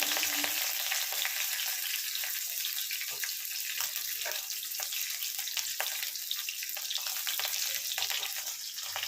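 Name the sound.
whole spices tempering (phoron) sizzling in hot oil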